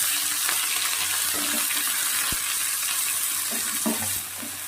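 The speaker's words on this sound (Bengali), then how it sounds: "মাছটা রসুনটা দেখো ভাজা হয়ে গেছে" Prawns and garlic fry in a pan with a continuous loud sizzle, broken by a sharp utensil tap and a few stirring scrapes.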